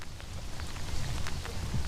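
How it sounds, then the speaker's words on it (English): Steady rain falls on a farm in Perthshire, Scotland, a dense, close hiss with scattered drops pattering on nearby surfaces and no voices. "the weather, as you can hear, is distinctly damp."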